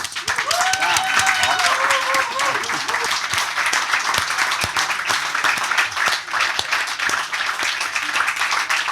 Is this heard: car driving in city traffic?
no